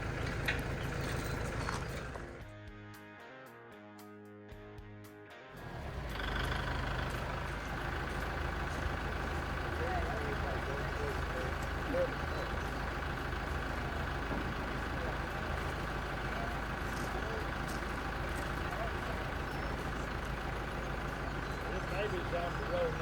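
A tractor engine idles steadily at close range while dunking, a continuous low rumble that drops away briefly near the start and then resumes; speech is also present.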